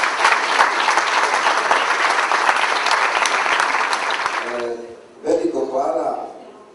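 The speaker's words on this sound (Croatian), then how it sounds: "I ja bih vas molio jedan aplauz za Zorana Jurića" Warm, dense audience applause at a book launch fills the room for several seconds before breaking off abruptly, after which a voice speaks briefly over the quiet hall.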